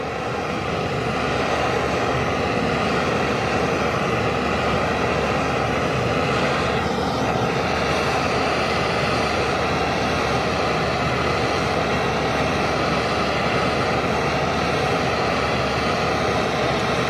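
An engine idles continuously while warming toward running temperature, a loud, steady broadband drone that barely changes throughout, with no voices.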